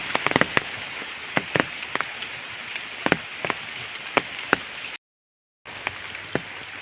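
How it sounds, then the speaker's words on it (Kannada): Rain falls outdoors as a steady, close hiss, punctuated by scattered sharp drop impacts at an irregular rhythm, with a brief moment of silence partway through and no voices. "ಈಕೊಳ್ಳಿ ಮಳೆ ಬರೋದು ಕೇಳ್ತಿರ್ಬೋದು ಅಂತ ಅಂದ್ಕೊಳ್ತೇನೆ"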